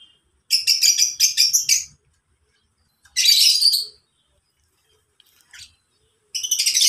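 Lovebirds in an aviary give bursts of shrill, rapid chirping, three loud clusters of high twittering separated by quiet gaps with a faint brief call in between.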